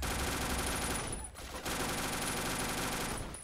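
Dense, sustained gunfire from the shooter game 50 Cent: Blood on the Sand, with rapid automatic bursts filling the scene and a brief lull midway before the shooting resumes at full loudness.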